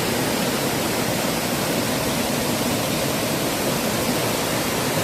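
A waterfall in a mountain valley near Seoul roars as a steady, dense wash of rushing water, loud and unbroken for the whole stretch with no voices.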